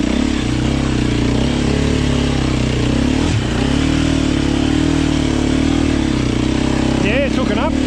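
A 2024 Beta 390 Race Edition dirt bike rides a wet, rutted trail, its loud, steady engine drone running throughout with brief throttle changes and a rev surge near the end, as a rider speaks over it.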